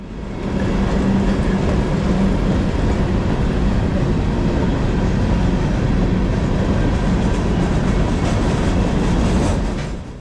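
A loaded freight train carrying stone and sand rolls past on the rails, a loud sustained rumble with clicking wheels over joints, steady from start to finish and close by.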